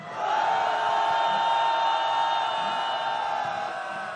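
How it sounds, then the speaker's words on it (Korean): A large outdoor crowd at a candlelight street rally demanding a president's resignation lets out a sustained, loud cheer and roar lasting several seconds, with scattered whoops rising above the mass of voices. "다시 한번 함성 시작"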